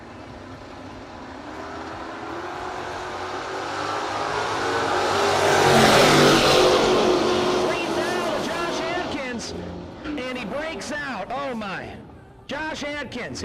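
Drag racing cars, a Chevrolet Malibu and a Camaro, roar past at a no-box race, the engine noise swelling to a loud peak then fading into revving, while an announcer speaks over the noise.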